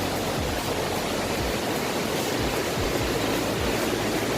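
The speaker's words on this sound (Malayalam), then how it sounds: "നല്ല വെള്ളം കുത്തി ഒഴുകുന്നതിൻ്റെ സൗണ്ട് കേൾക്കാം" A waterfall in the Thenmala forest, water rushing down a stream in a loud, unbroken roar that fills the space without pause or voices.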